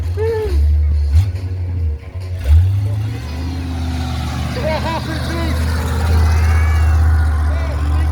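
A Bigfoot monster truck's carburetted engine rumbles loudly and revs in a couple of surges, while someone talks over the steady roar.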